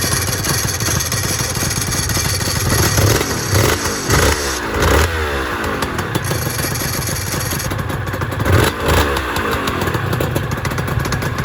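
A Honda NSR250R-SP motorcycle engine running, its dry clutch producing a steady metallic rattle over the loud continuous engine note, close up with no talking.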